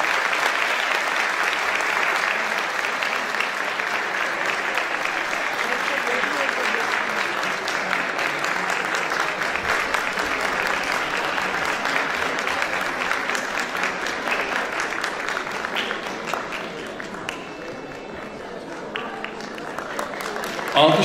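Sustained applause from a concert audience welcoming a Turkish art music choir onto the stage, a dense steady wash of clapping that thins slightly near the end.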